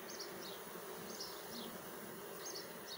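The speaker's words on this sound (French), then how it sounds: "Elles sont vraiment nickel, ces abeilles." Honeybees buzzing steadily around an open hive, a close, continuous drone with no voices over it.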